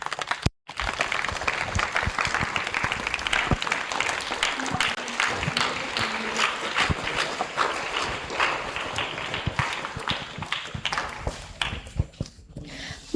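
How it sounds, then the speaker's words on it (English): A school audience at St. Xavier's English Medium School in Kothagudem applauds in a long, dense, sustained round of clapping that fills the hall and then tapers off near the end. "Let's welcome him with a round of applause."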